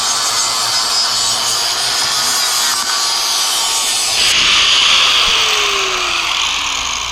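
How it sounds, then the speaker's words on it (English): A grinder runs steadily at a homestead camper, giving a loud, close, continuous rasping whine. Partway through the tone shifts, and then a falling pitch follows as it winds down. No one speaks. "she runs the grinder just fine"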